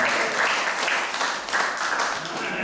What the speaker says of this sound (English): Let's give a round of applause for him also.